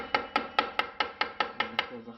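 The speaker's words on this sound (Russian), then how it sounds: "Если она не входит, подгоняем молоточком." Small hammer tapping a key into a scooter kick-start lever, eight evenly spaced sharp metallic taps in quick succession, close and clear.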